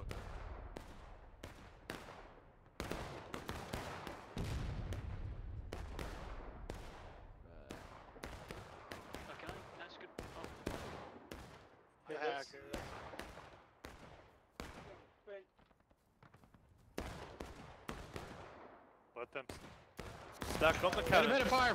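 Sharp musket fire and booming artillery cannon shots crack repeatedly in the Civil War game War of Rights, dense bursts of rifle fire with heavier blasts, mixed with scattered voices talking.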